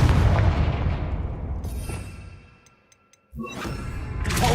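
Confringo fire spell explosion in Hogwarts Legacy, a loud booming blast that rumbles and decays over a few seconds, followed by light magical chimes and a second rising whoosh.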